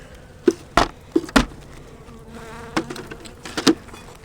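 Honey bees buzzing around a spring beehive, several close loud passes that swell and fade, with fainter buzzing in between and no talking.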